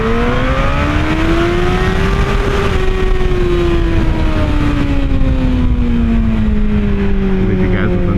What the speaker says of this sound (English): Leave you guys with a nice little rev limiter.